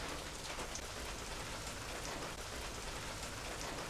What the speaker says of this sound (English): Annoyingly, the rains have just come, so I've had to drag the barrel underneath my tin roof shed.